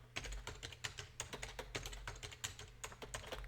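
Fast, irregular clatter of keys as a root password is typed on a computer keyboard during an SSH login, close and fairly quiet, with a steady low hum underneath and no voices.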